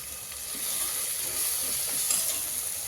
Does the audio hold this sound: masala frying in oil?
yes